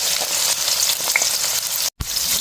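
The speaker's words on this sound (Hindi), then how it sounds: "प्याज को अच्छी तरह सौते करेंगे।" Onion sautéing in hot oil with cumin in a kadai, a loud steady sizzle and frying crackle with a brief stir-like break near the end.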